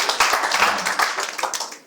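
Audience clapping at a book launch event, a dense burst of many hands applauding together at moderate loudness for a couple of seconds, with no speech over it.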